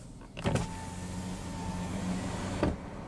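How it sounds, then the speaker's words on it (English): A 2013 Chrysler 300 driver's power window rolls down: a faint steady electric motor whine inside the car, framed by soft clunks as it starts and as the glass stops. "Now we'll go ahead and roll down the driver's window."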